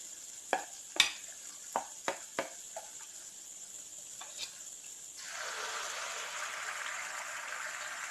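Rava appam batter hits a hot pan with a few sharp clinks first, then a soft, steady sizzle sets in and continues quietly to the end.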